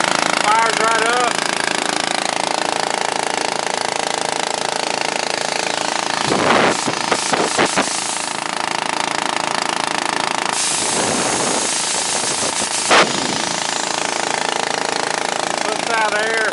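A 2001 Ford F450 truck engine, apparently fitted with an air compressor, runs with a steady, loud, rattling clatter, with bursts of hissing air partway through and someone talking over it.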